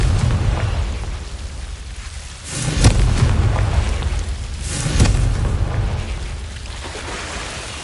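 Confringo explosive spell blasts in Hogwarts Legacy, two heavy booming bursts a couple of seconds apart, each rising out of a rumbling low roar and fading into noisy debris.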